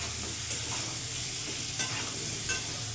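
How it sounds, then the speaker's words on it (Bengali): Pointed gourd frying in a pan for a vegetarian curry, a steady close sizzle with light stirring scrapes and a few sharp clicks of the spatula against the pan. "পটলটাও লাল লাল করে ভেজে নিয়েছি"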